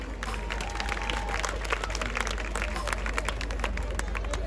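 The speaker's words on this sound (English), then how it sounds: "Can we give the KCMC a big round of applause, please?" An outdoor crowd at a Kingston Christmas tree lighting ceremony applauds the KCMC, steady scattered clapping mixed with crowd murmur and a low background hum, with voices heard throughout.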